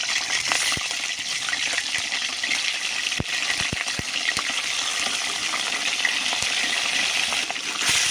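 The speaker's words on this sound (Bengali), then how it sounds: "মাছটা একটু তেলে ভাজা নিতেছি" Hilsa fish fries in hot oil with a continuous bright hiss, dotted with sharp pops and crackles throughout.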